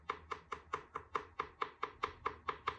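The dry, trimmed foot of a clay teabowl is tapped in a quick, even series of about a dozen close, hollow knocks, each with a short ringing decay, in a quiet room.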